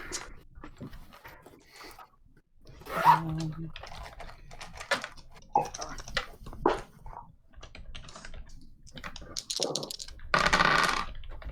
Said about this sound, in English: let's roll up 2d6 and figure out who goes first